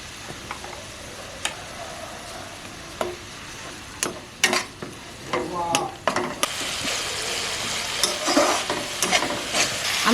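Ginger-garlic paste and a mustard, poppy seed and green chili paste fry with softened tomatoes for a bhola fish curry, a steady sizzle broken by sharp spatula scrapes and taps on the pan, loudening as the pastes go in.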